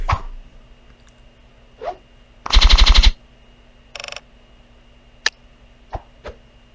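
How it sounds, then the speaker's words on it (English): Rapid burst of animated gunfire in a Minecraft animation, one loud rattling volley of closely spaced shots, then a shorter quieter burst and a few isolated sharp reports. "Oh, you about to shoot the shit out of this man."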